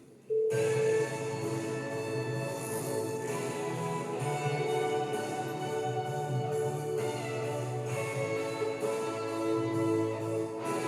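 A telephone rings in the LEGO City Undercover video game, a steady electronic ring running through the whole stretch, layered with in-game music and tones.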